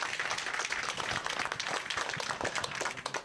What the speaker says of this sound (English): Big round of applause for Sam.